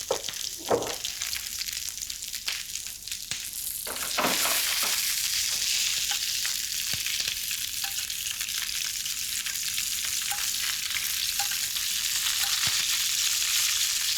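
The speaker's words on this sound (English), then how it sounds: "I love that combination of butter and olive oil. It just works so deliciously well. Caramelize the endives." Endives frying in butter and olive oil in a pan: a steady, bright sizzle that swells louder partway through, with occasional pops and stirring scrapes and no talking.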